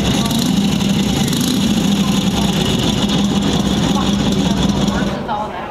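A Harley-Davidson Knucklehead engine recording plays at a museum display, a steady, low rumbling idle with a dense even drone that continues for several seconds before fading away at the end.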